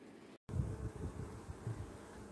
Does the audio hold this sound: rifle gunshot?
no